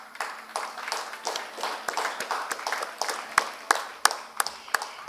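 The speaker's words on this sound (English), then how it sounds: "Please, ladies and gentlemen, put your hand together for Vatsalya Foundation." An audience applauds at a menstrual hygiene awards ceremony in India: continuous, dense clapping from many hands, fairly close and steady throughout.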